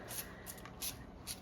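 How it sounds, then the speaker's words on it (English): Four quick hissing bursts from a Trend Plain olive oil sprayer misting oil over broccoli, short airy sprays in an irregular rhythm, faint and close, with no talking. "I also sprayed them with a little bit of olive oil. This is my Trend Plain olive oil sprayer."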